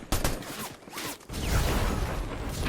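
Assault rifle fire in Fortnite zero build, a loud burst of rapid shots up front, a short lull, then a dense, sustained barrage of gunfire and game noise through the rest.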